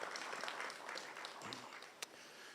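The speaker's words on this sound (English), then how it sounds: "I think we can give her another round of applause" Audience applause at the launch of the Eastern Caribbean Supreme Court e-litigation portal in Montserrat, a brief, steady patter of clapping that holds evenly for a couple of seconds at moderate distance.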